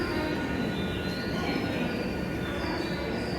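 A train bound for Asakusa pulls into a station in Japan before dawn, with steady rumbling and a thin high squeal of wheels on rails, loud and continuous throughout.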